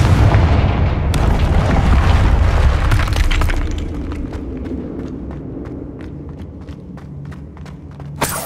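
A Confringo blasting spell explodes in the Hogwarts Legacy video game: a loud, dense burst of blast noise rumbles for several seconds, then fades into quieter crackling debris and scattered sharp clicks.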